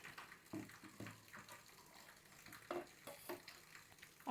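Water is poured in short, quiet splashing bursts into a container in a home setting, with soft intermittent trickles and no talking.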